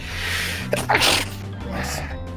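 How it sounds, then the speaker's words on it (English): A single sneeze, loud and close, bursts out over steady background game audio during a Spyro the Dragon speedrun, with a short sharp intake of breath before it. "I have to sneeze."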